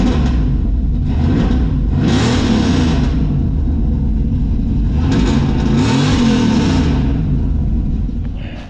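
A car with a 2,000 stall converter revs loudly and close up, its engine rumbling steadily while rising and falling in two surges that build and ease off.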